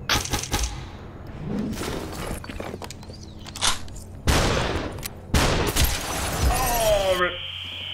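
Sharp gunshots crack in the shooter Superhot, several loud separate blasts with shattering and thuds between them, ending in a ringing tone, while a voice talks over parts of the action.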